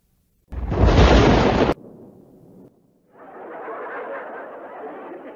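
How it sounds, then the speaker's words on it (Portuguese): A thunderclap sound effect from a Mexican sitcom, a loud sudden burst lasting about a second, followed by a quieter rumble and then steady broadband noise. "Isso aí foi um trovão."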